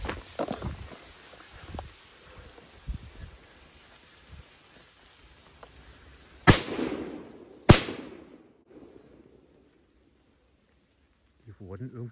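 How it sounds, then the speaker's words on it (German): Two sharp, loud Elgato Supergato F3 firecracker bangs go off a second apart, each ringing briefly, after quieter outdoor rustling and footsteps. "Die wurden irgendwie vom Böller zu Böller immer lauter"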